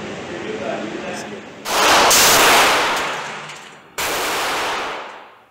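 A Smith & Wesson M&P 45 Shield pistol with a 3.3-inch barrel, chambered in .45 ACP, fires two sharp, loud shots at a 7-yard target, each blast ringing out and fading before the next.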